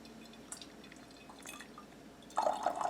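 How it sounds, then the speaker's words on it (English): Homemade apple cider pours through a sieve, a faint trickle and drip that swells into a louder, fuller splashing flow near the end. "Full, good pour. Homemade apple cider."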